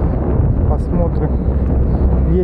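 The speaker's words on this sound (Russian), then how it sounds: "Ветер, прям дует вообще, встречный, жесткий." Strong headwind buffets the microphone beside a quarry lake, a loud continuous roaring rumble that nearly drowns someone speaking over it.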